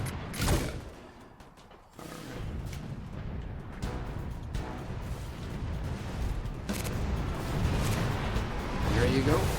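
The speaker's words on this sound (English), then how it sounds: "One barrage in your general direction." An artillery barrage in the toy-war strategy game Toy Soldiers: Cold War on Xbox: a sustained rumble of heavy blasts and booms rolling on, with a voice commenting over it.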